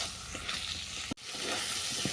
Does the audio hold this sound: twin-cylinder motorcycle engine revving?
no